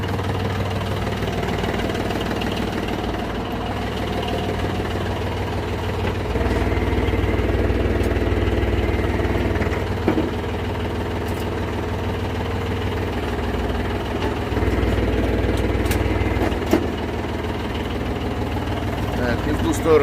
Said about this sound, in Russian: Работает у нас фреза на первой передаче,